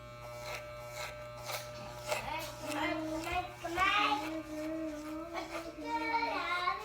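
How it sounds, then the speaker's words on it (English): An electric hair clipper buzzes through a fade haircut, its steady hum wavering as it tips out along the last layer, with a person talking over it up close. "I just kind of hold the clipper out a little bit on this last one"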